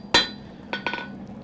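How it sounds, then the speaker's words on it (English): Hammer blows in a workshop where metal projects are being prepared: one loud ringing strike, then a quick pair of lighter taps about half a second later, with a steady low hum underneath. "So just hammering around helps"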